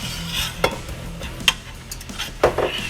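A utensil stirring flour into boiling butter and water in a pot, a few distinct scraping knocks against the pot over a soft sizzle, with no talking.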